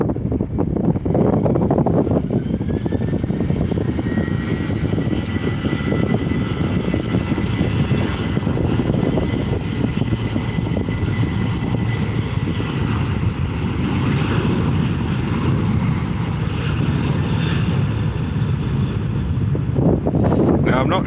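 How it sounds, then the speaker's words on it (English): A Ryanair Boeing 737-800 jet rolls down the runway for takeoff at Tenerife airport, its broad engine roar holding steady and loud for the whole stretch, buffeted by wind noise on the microphone. "that's the Ryanair 738 rolling"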